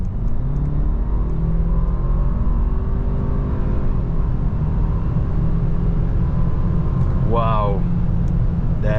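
A 2020 Audi A6 55 TFSIe quattro plug-in hybrid with 367 hp accelerating in dynamic mode, heard from inside the cabin as a loud continuous drone with rising engine tones and a brief higher whine near the end.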